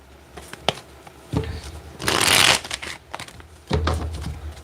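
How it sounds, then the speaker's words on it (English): A deck of tarot cards shuffled by hand in several bursts of riffling and sliding, with a longer dense flurry in the middle, close and moderately loud, with brief pauses between. "Let me get one more good shuffle"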